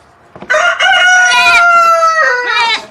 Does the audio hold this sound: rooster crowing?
yes